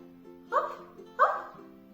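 Two short, bright puppy yips a little over half a second apart, close by, with a steady low hum underneath and no talking.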